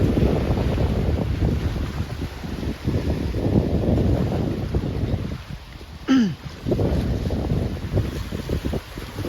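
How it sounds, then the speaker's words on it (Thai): Strong wind gusts buffet the microphone on the beach at Pattaya, Thailand, a loud steady roar with surf rumbling beneath and a brief high whine near the middle. "โอ้ลมเย็นมาก"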